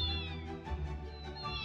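Kittens meowing in a steady run of high, wavering cries, close and clear, with no talking over them.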